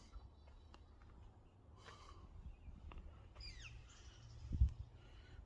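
Birds call sporadically in an outdoor Japanese maple garden, a few faint, brief chirps and a short descending call scattered over quiet background ambience, with a soft thump near the end.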